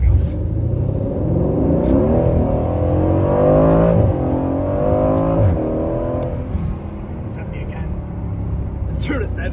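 A supercar launches hard from a standstill, its engine roaring as it climbs through the revs in rising sweeps with gear changes, loud and close from inside, with voices talking over it.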